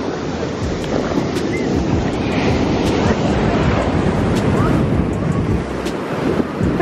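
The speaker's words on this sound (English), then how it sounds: "Look at these waves." Ocean waves breaking at North Shore beach in Hawaii, a steady broadband wash of surf mixed with gusty wind buffeting the microphone, loud and continuous without pause.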